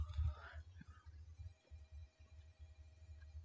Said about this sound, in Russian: Кто-то телефон зазвонил